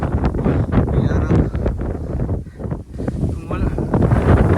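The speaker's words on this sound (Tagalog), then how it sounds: "Grabe na hangin." Strong wind roars and buffets the microphone continuously on the summit of Mt Apo, loud and gusty, with people talking over it throughout.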